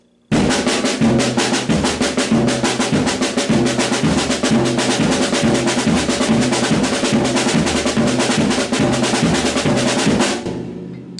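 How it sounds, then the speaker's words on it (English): Quick, steady paradiddle drum rolls alternate between booming toms and a sharp snare in a dense, driving pattern, close and loud, ending abruptly. "I'm going to put it on the tom-toms, and all the other hits will remain here on the snare drum"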